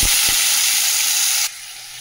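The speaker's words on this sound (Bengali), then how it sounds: "এই কড়াতেই আমি কুমড়ো আর উচ্ছেটা ভেজে নেবো" Pumpkin pieces frying in hot oil in a kadai, seasoned with salt and turmeric: a loud, steady, close hiss of sizzling oil fills the clip, dropping noticeably quieter partway through.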